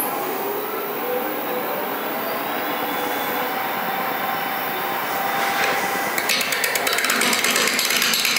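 A wood lathe turns a workpiece while a tool takes off its uneven edges, giving a continuous close whirring hiss that turns into rapid rhythmic knocking and chatter toward the end.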